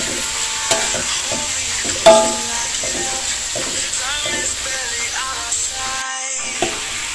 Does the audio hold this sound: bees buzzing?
no